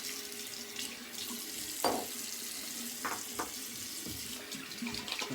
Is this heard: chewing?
no